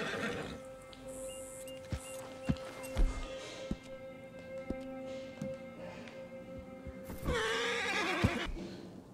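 In the video game Red Dead Redemption 2, a horse lets out a loud, drawn-out whinny near the end, preceded by hoof clip-clops and soft thumps over a steady ambient hum.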